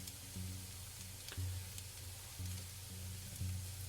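Eggs sizzle steadily in a frying pan, a continuous close hiss with faint low hum underneath and no talking.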